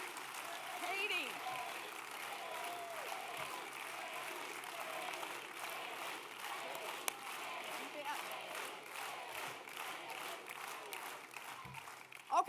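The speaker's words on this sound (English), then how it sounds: "I like this cheering because it makes the next part easier" A large crowd at an outdoor political rally for Senator Elizabeth Warren in Philadelphia applauds and cheers in a steady, sustained wash of clapping, heard from some distance and fairly faint.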